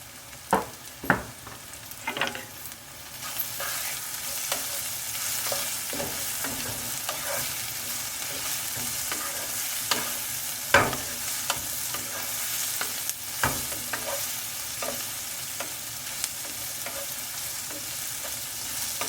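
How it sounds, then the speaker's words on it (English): Ground spices with garam masala, cumin and salt sizzle and fry in a pan for baigan bharta, a steady close hiss with intermittent stirring scrapes and no talking. "So 1 minute we'll let cook all the spices."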